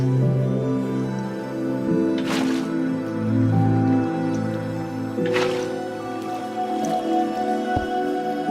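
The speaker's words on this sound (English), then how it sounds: "Place water under each of these blocks." Water placed under blocks in a Minecraft redstone build gives soft dripping and gurgling liquid sounds, with a few brief splashy bursts over a steady low ambient hum.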